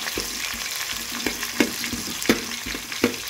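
Onion frying in a pan over a medium flame for vegetable pulao, a continuous sizzle broken by several sharp scraping stirs at irregular intervals, close and clear with no voices.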